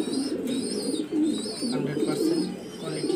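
Steady cooing from a Rafsan grizzle pigeon, with several pigeons in a loft cooing together in a low, continuous rolling murmur, fairly close and loud, with faint higher chirps above.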